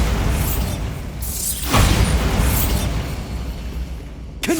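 A Bombarda blasting-spell explosion in Hogwarts Legacy: a sustained loud rumbling blast with crackling debris, swelling midway and ending in a sharp final burst.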